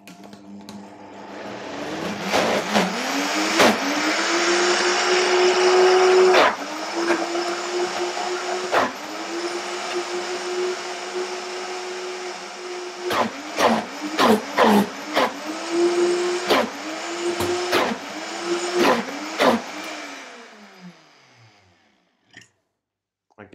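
A blender blending cashews runs loudly for about twenty seconds, its motor pitch rising and dipping as the load shifts, with sharp knocks and clatters throughout.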